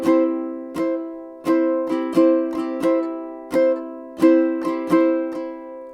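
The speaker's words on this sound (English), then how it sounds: "I strum and I release. Strum and release." Guitar chords strummed in short bursts, each cut off quickly by muting, forming a bouncy, syncopated rhythm with clean gaps between strums.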